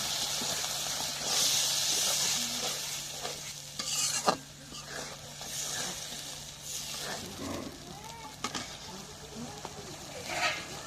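Spiced masala frying in hot oil sizzles and hisses steadily as a little water is added, with stirring scrapes throughout and a few sharper bursts; close and fairly loud, no talk.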